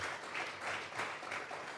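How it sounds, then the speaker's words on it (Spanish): A church congregation claps together as an offering to God during a Sunday service, a soft, steady patter of many hands, somewhat distant, swelling and fading in waves. "vamos a regalarle ofrenda de palmas al Dios de la gloria"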